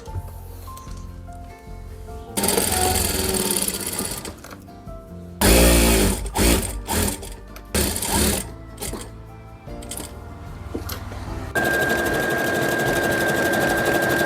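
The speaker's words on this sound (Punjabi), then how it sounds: "ਆਪਣਾ ਚੱਲ ਰਿਹਾ ਜੀ ਕੰਮ ਬ੍ਰਦਰ ਮਸ਼ੀਨ ਦਾ ਹੋਣਾ ਤੇ ਬ੍ਰਦਰ ਮਸ਼ੀਨ ਨਾਲ ਮੈਂ ਲੱਗੀ ਆ ਜੀ ਡਿਜ਼ਾਈਨਿੰਗ ਕਰਨ" A Brother sewing machine stitches a lace work patch onto the hem of a salwar, running in separate bursts of fast, close whirring broken by pauses and rustling handling sounds, with no talking.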